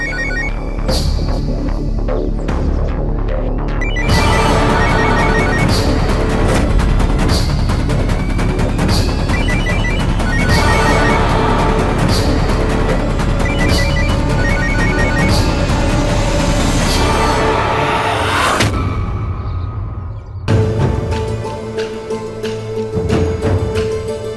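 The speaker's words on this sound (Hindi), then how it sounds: "बेल तो जा रही है" A telephone rings loudly and repeatedly amid a busy, dense musical backdrop, its bright tones pulsing in regular bursts before the ringing breaks off near the end and then resumes.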